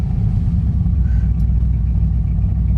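A 1972 Chevy C10 custom truck idles with a deep, steady, loud low rumble heard up close, throbbing evenly with no talk.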